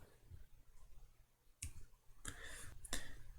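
Computer mouse clicks while modelling in FreeCAD, a few soft scattered clicks with a brief double click near the end, faint and close over quiet room noise.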